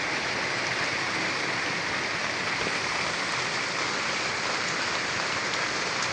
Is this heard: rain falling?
yes